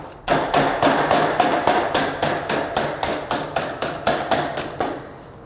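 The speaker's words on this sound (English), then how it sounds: "We're going to take our small hand benders and fold this around." Small hand benders fold metal drip edge trim for a metal roof, producing a close series of sharp metallic clanks and bangs in an uneven rhythm, about fifteen hits before fading out.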